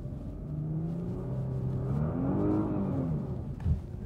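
A Nissan car accelerates on an icy surface, its engine rising in a steady, mid-pitched revving drone with a slight climb in pitch, heard from inside the cabin.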